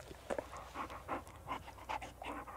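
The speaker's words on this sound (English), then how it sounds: "Look at that dog." A cartoon dog pants in a platform stealth game, quick rhythmic breathy huffs repeating steadily and fairly close.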